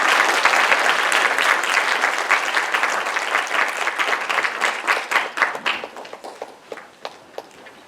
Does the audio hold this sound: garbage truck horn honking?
no